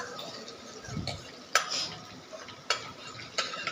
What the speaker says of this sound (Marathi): हलवत राहायचं एकसारखं, म्हणजे सगळीकडून रंग एकसारखा येतो